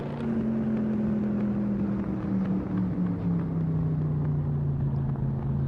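A car in the driving game Assetto Corsa, on Delaware roads, is taken too fast; a loud, steady engine drone holds throughout as its pitch slowly falls while the car slows.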